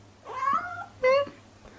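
A cat meows twice in quick succession, close and fairly loud, each cry short and rising, over a low steady hum.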